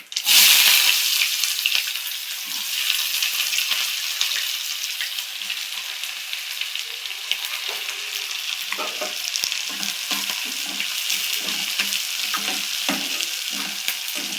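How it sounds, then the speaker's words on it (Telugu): Chopped onions and green chillies fry in hot oil with dried red chillies, cumin and tempering seeds for a leafy-green curry, giving a loud, steady sizzle broken by frequent spoon scrapes and stirring. "ఇప్పుడు కట్ చేసుకున్న ఆనియన్స్ పచ్చిమిర్చి"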